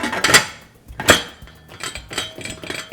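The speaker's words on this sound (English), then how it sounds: "Now the way mine works is I just screw the top on." The metal lid of a chicken-taco pressure cooker is twisted shut with two sharp metallic clanks, followed by quieter scraping and rattling as it seats, close and loud with no talking.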